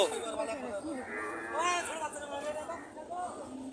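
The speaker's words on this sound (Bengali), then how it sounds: "এই যে দেখেন, এই পাশে দেখতে পাচ্ছি বাছুর মহিষ।" Buffalo calves at a busy livestock market, with bellowing moos rising over a steady background of crowd chatter and nearby voices.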